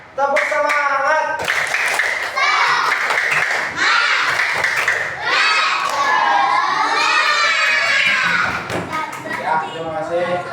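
Schoolchildren in a primary classroom perform a loud clapping chant together, rhythmic bursts of claps mixed with shouted chanting voices in unison, continuing energetically for about ten seconds.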